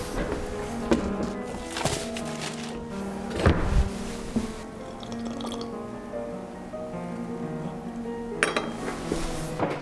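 Kitchenware and ingredient containers being put away while baking a tres leches cake: scattered clinks of dishes, pots and cutlery, with light knocks, a little dripping and soft handling noises across the stretch, fairly close and without talk.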